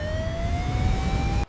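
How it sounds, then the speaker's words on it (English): A siren at a wave pool sounds the start of the giant wave cycle, a loud steady rising tone held for about a second and a half before cutting off abruptly over background noise. "Listen to the siren! The giant wave cycle is starting right now!"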